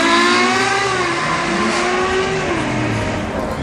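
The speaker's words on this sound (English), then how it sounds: "So, California, another front engine Ferrari. Fabulous exhaust note." A Ferrari California with its front-mounted engine accelerates at the Goodwood Festival of Speed hillclimb in 2014, its exhaust rising loud and close in a sustained, pitch-climbing roar.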